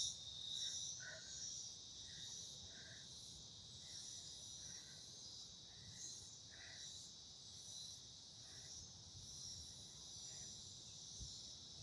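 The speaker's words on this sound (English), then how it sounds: "You hear the cicadas going in the background." Steady high, buzzing drone of cicadas along the Lennox Head boardwalk, continuous throughout with faint pulsing chirps layered underneath and a soft low rumble of ambient background.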